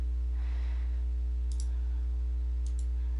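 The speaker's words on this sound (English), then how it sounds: "We don't want to double click. We want to single click." Two crisp mouse clicks from a computer mouse, spaced about a second apart, sounding close and quiet over a steady electrical hum while someone works through banking accounts in QuickBooks.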